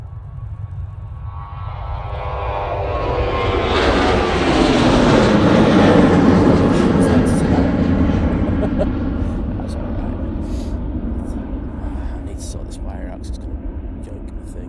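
An Airbus A380 departs the runway at Manchester Airport on a frosty day, a deep jet roar swelling from a distant rumble to a loud peak mid-way then slowly fading, with faint scattered background noises.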